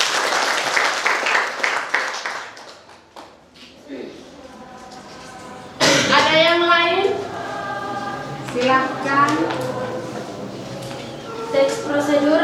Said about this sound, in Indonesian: Kita tepuk tangan dulu untuk Alvin